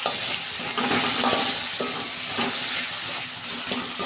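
Spice paste with tomato, salt and turmeric being stir-fried in a pan, a steady sizzle with repeated scraping strokes of a spatula at an even rhythm, close and continuous with no voices.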